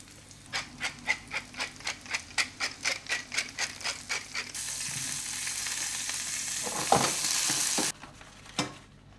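Rhythmic knocks, then a loud steady sizzle, as eggplant and garlic hit hot olive oil in a pan and fry, the hiss cutting off abruptly near the end, followed by a single clatter.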